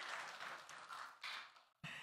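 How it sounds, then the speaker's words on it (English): An audience applauds at a church service, a dense patter of many hands clapping at moderate distance, swelling once before dropping briefly and picking up again. "give him a round of applause"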